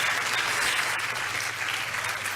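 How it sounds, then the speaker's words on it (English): A crowd applauds at the 2024 Alpine F1 team car launch for the A524, a dense, continuous wash of clapping that stays loud and even throughout. "a round of applause"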